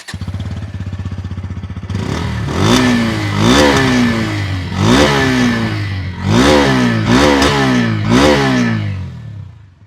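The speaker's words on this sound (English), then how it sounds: "here's a quick listen to the exhaust note" A Bajaj Pulsar N160 motorcycle idles briefly, then its exhaust barks through a series of sharp, rising revs, loud and close, about seven throttle blips in quick succession.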